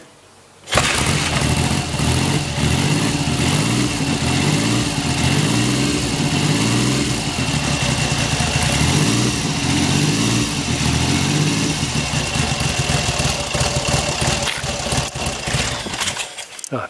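A 1973 US-spec Triumph Trident T150V three-cylinder motorcycle engine fires abruptly from silence and settles into a loud, close, lumpy idle with a steady throbbing beat, a few revs swelling before it drops away at the end.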